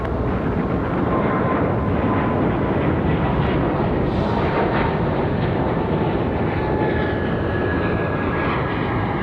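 A Frontier airliner on its takeoff roll from runway 23 right at Raleigh-Durham airport gives a steady, loud roar of jet engines that holds strong across the whole stretch, broad and unbroken, with no talk over it.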